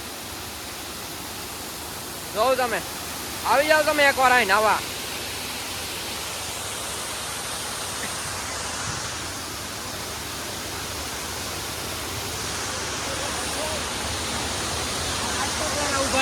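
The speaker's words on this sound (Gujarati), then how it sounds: "આ છે માલ બાપાની નદી" A river stream at Mal Bapa temple flows with a steady, loud rushing of water that continues throughout, with brief talking near the start.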